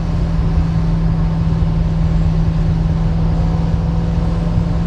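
A 1966 Ford Mustang coupe cruising at around 60 mph, heard from inside as a steady, loud engine drone and road rumble with a constant low hum and no break.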